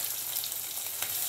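Coriander seeds frying in hot oil in a pan, giving a bright continuous sizzle with fine crackling pops, close and steady throughout the short moment.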